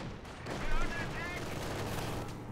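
Machine gun fire in Company of Heroes 2, a World War II strategy game: rapid, dense bursts of automatic gunfire amid battle noise, fairly quiet and distant-sounding.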